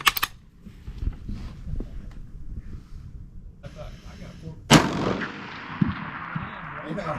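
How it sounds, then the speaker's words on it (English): A loud rifle shot from a WW1 American-made Mosin M91 at a 600-yard range, with a sharp crack at the start and another later with a long decaying echo, under spoken talk. "It's 5 shots at 600 yards"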